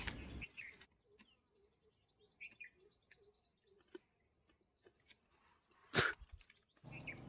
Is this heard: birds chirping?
yes